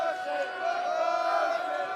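Rowdy spectators at a men's college basketball game against Queens College shout and holler together, a loud, sustained wall of voices with rising yells, close and continuous.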